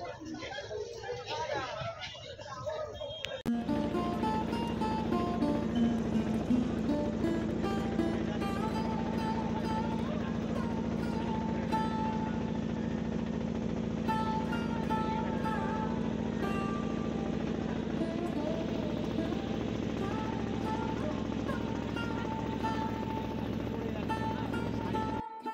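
A boat engine drones steadily and loudly on a river crossing to Mayapur, starting a few seconds in after a quieter opening. A launch runs nearby, and voices chatter beneath the engine.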